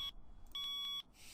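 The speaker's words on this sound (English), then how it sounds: "That is the most annoying alarm I have ever heard." A shrill, high electronic alarm clock in the Seduce Me dating sim video game beeps in two loud bursts, the second held longer, with a short pause between them and no talk.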